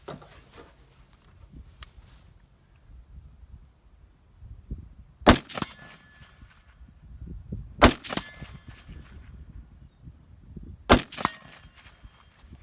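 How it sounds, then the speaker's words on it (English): Three sharp rifle shots ring out on steel targets at 100 yards, each a loud crack followed by a metallic clang, spaced a few seconds apart over low outdoor background noise. "let's go shoot some steel up close, 100 yards"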